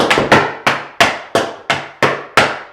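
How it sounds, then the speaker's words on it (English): Tap shoes striking the floor in a paradiddle, toe, heel and stamp sequence, eight sharp, ringing metallic taps in a quick even rhythm, close and clear with no talking. "you just did paradiddle, toe heel stamp"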